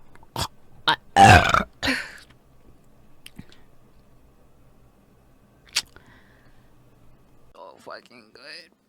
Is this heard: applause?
no